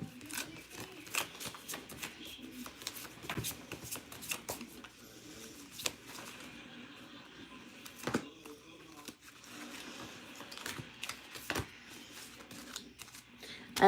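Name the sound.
shuffling angel cards for a tarot reading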